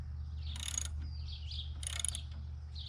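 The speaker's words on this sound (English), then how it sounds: "Put that wrench on there." A wrench tightens highway pegs on a Harley Street Glide motorcycle, two short bursts of quick ratcheting clicks up close over a low steady hum, with no speech.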